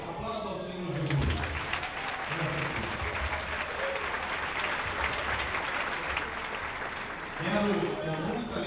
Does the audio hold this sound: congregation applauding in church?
yes